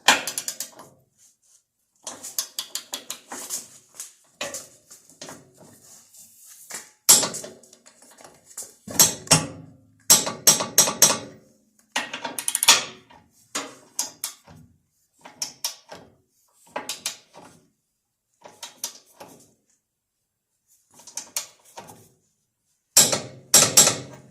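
Wrench work on the bolts of a Jeep TJ skid plate during a TeraFlex lift install, heard as bursts of metallic clicking and ratcheting separated by short pauses, fairly close and without talk.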